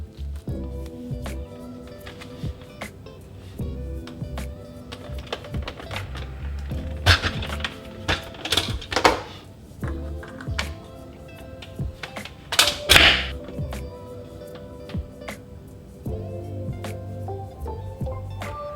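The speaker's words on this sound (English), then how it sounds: "I'm going to brew the coffee first" A Nespresso Vertuo machine brews a Tamuka Mu Zimbabwe coffee pod, a steady motorized hum with repeated mechanical clicks and a couple of louder bursts of gurgling and spurting partway through.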